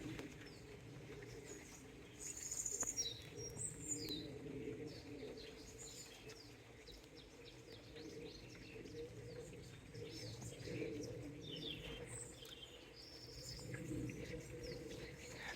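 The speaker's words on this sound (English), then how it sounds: "The birds are happy despite the weather" Birds chirp and coo quietly on a rainy Galician farm, with insects faintly buzzing beneath a soft, steady wash of rain.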